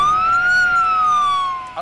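A fire truck siren in the Philippines gives a loud, steady wailing tone that rises and then falls over about two seconds, heard alone.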